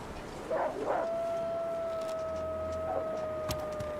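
A timber wolf in a video game lets out a long, steady howl that holds one sustained pitch after a couple of brief yelps, faint and distant over a hissy game background.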